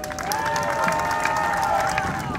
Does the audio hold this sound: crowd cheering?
yes